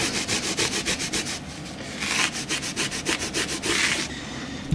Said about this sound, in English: Now I'm just using a Wonder Wipe just to wipe away these little bits at the front.